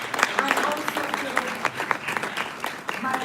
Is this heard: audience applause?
yes